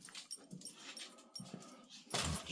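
Several dogs whimper and whine in short bursts while being sent out into the garden at night, close by, with scuffling and a louder rustle near the end.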